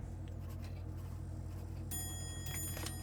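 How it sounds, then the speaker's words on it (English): A clock chimes the hour aboard a sailing boat: bright, ringing tones enter midway and sustain over a steady low engine-like rumble, with no voices. "Your clock chiming, 1900 hours."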